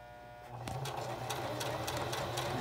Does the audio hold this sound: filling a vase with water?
no